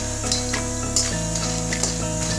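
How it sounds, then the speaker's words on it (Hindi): Makhana (fox nuts) roasting in a pan in a home kitchen, a steady dry sizzle with repeated light scraping and stirring strokes, close and continuous, with no talk. "जब तक हमारा मखाना भुज रहा है"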